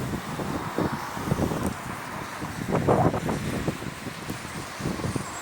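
Wind gusting across an outdoor microphone on Lower Granton Road in Edinburgh, a steady low rumbling roar with brief louder buffets throughout.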